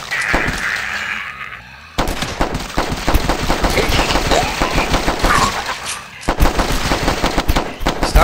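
Rapid automatic gunfire from a video game, dense machine-gun bursts running nearly continuously and loud, with a brief drop in level before the shooting resumes at full intensity.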